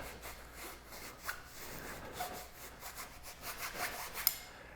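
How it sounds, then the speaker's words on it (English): A rag wipes metal shavings off BMX handlebars, soft repeated rubbing strokes, quiet and close, with a small tap near the end. "So we're going to get a rag and we're just going to wipe that off."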